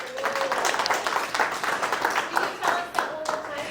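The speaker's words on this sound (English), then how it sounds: "Give yourselves a round of applause." A small audience at a non-profit leaders meeting in Buckeye, Arizona claps in a scattered, modest round of applause, with a few voices talking among the claps.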